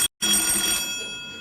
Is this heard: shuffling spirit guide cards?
no